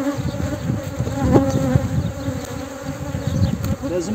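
Honey bees buzzing around an open hive, a loud, dense, continuous drone of many bees close by with no talk.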